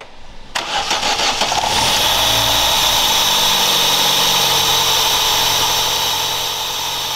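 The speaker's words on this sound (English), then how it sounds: "Starting the engine." A car engine in a garage workshop, the lubrication system under inspection, cranks and catches after a brief silence, then settles into a loud, steady running drone that holds for several seconds without talk.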